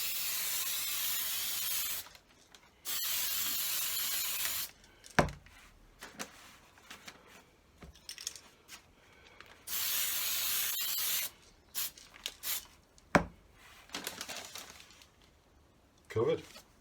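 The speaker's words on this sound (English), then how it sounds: "Now, priming." An aerosol spray can primes a P51 Mustang model part in three long, close hissing bursts, with short pauses and speech and handling noises between them.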